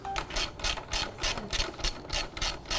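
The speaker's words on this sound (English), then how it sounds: "So we'll get the 14 millimeter socket. Well, loosen it anyway." A ratchet fitted with a 14 mm socket works loose a bolt on a motorcycle brake caliper, giving a close, crisp clicking that comes in about ten evenly spaced bursts of back-and-forth strokes, with no talking.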